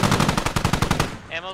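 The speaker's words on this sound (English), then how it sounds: "It looks like he's shooting the ground." Rapid automatic gunfire in the video game Squad, a steady burst of roughly a dozen evenly spaced loud shots that stops abruptly, leaving faint tonal game sounds.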